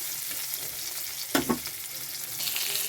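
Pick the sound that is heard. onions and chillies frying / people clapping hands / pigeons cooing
onions and chillies frying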